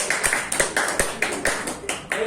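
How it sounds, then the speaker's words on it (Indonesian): A small classroom group claps together in a steady rhythm, about nine or ten sharp, evenly spaced claps in quick succession, close and fairly loud. "Tepuk tangan untuk kita semua."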